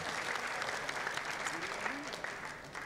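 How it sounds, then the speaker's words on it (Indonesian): An audience at a corporate event applauds for Daniel Handoyo: a dense, steady wash of many hands clapping throughout, with a voice faintly underneath. "Boleh tepuk tangan untuk Bapak Daniel."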